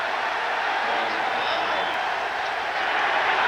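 Football stadium crowd at a Giants versus Patriots NFL game, a steady loud roar of cheering and applause that holds throughout.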